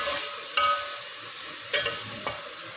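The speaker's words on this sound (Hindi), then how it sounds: "अब मैं मसाले को अच्छी तरह से भून लूँगी।" Spices and paste frying in a pan for an aloo baingan dish, a steady close sizzle punctuated by three sharp scrapes or taps of the stirring spoon.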